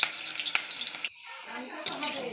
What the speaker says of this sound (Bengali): এবার মাংসের আলুগুলো ভেজে নেব।